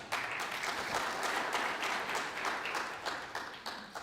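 A conference audience at a World Oral Health Day event breaks into sustained applause, many hands clapping steadily and fairly evenly throughout, moderately loud with no talking over it.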